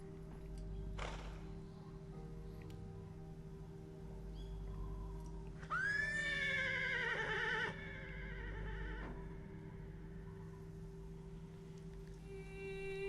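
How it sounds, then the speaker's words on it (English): A horse neighs loudly in Metal Gear Solid 3, one long descending whinny standing out over a steady droning game background, with faint hoof clops around it. "Horsey! Horsey!"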